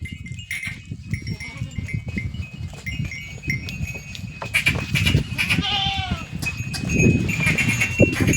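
Goats bleat several times close by over a busy goat farm background, with people talking faintly and a few clattering sounds.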